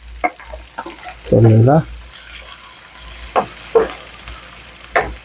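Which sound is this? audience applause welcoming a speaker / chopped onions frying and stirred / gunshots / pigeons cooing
chopped onions frying and stirred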